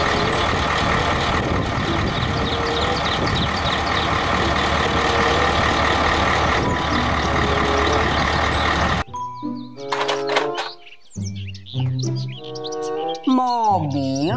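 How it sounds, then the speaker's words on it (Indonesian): A toy dump truck plays electronic sound effects: a loud continuous rumbling engine noise, then a run of bright synthetic chirps, beeps and sweeping tones. "Mobil dump truck."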